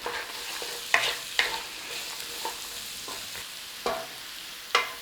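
Carrots, celery and onions sizzle gently in a pan, a steady close frying hiss broken by several sharp scrapes as the vegetables are stirred, with no talk.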